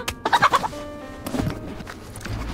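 Chickens in a coop in the video game DayZ, a flurry of clucking and gobbling calls over the first second, then a few scattered squawks against a low background hum.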